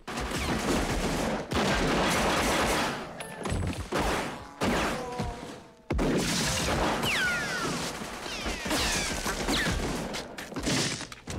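Gunfight in the 1940s Los Angeles crime game L.A. Noire, with dense rapid gunfire and a fusillade of shots running almost the whole time, some crashes and impacts mixed in, loud and busy with only brief lulls.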